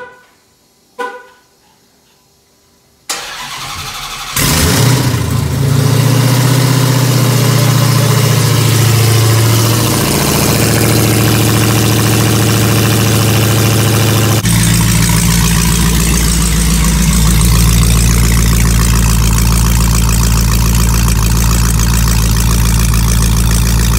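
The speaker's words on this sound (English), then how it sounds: "cold start of my ghetto ass turn down exhaust" A Dodge Challenger Hellcat with a turned-down exhaust cold starts: a couple of clicks, then the starter catches into a loud, deep roaring idle that settles and stays heavy and rumbling, with a brief surge partway.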